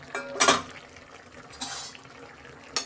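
Lid lifted off a pot of simmering red lentils (masoor dal) on a stove, with a couple of sharp metallic clanks and scrapes spaced apart over a soft bubbling background.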